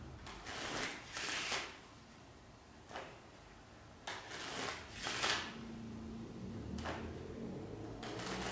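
A deck of playing cards is shuffled close up during a card magic trick, in several short, crisp riffling bursts separated by quiet gaps, with no talking.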